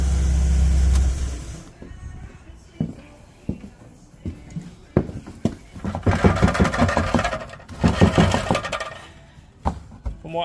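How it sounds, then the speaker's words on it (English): Rattly exhaust on a 2010 Ford Ka with a melted, shunted-back pipe, giving loud irregular metallic knocks and clattering bursts after a low engine rumble, heard close up with no talk. "I've also got a really rattly exhaust."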